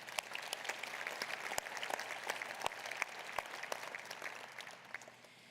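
A city-hall audience at Nampa's State of the City 2024 gives business owners a steady round of clapping, fairly faint and distant, holding for about five seconds before tapering off.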